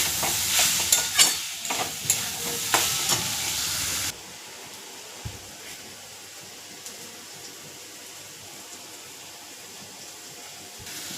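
A spatula stirs mustard and chili paste in a pan, giving rhythmic scraping strokes over a hissing sizzle for about four seconds. A quieter, steady background hiss follows. No one speaks.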